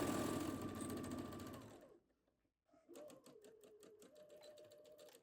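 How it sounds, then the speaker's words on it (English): A sewing machine stitches a dress seam down to the hem, running fast and steady, stopping briefly in silence, then starting again with a quicker rhythmic ticking. "sew the rest of the seam to the hem"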